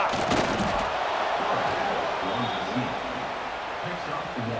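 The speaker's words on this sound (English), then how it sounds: "This crowd busting the decibel meter and trying to will a fourth down stop" A huge stadium crowd roars continuously at a Nebraska versus FSU football game, a loud, dense wall of cheering and noise that holds steady throughout.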